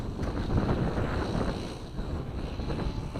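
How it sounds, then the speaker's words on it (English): Steady side wind buffets the microphone across a model aircraft field, a dull continuous rumble with no talk over it. "Bit of side wind."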